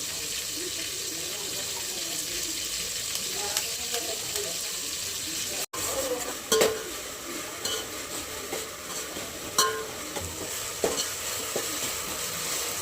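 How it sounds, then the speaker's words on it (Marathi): Green chillies fry in hot oil in a pan for a Marathi Ekadashi-style potato amti, a steady loud sizzle with occasional stirring scrapes and clinks throughout, no voices. "आपण आहे ना ही मिरची चांगली तळून घेणार आहे बरं का. मस्त तळून घ्यायची."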